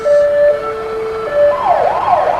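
Emergency siren on a Lyon Mountain EMS rescue squad vehicle passing in a small-town parade, a steady tone stepping in pitch before breaking into a rising and falling wail, loud and near with no voices over it.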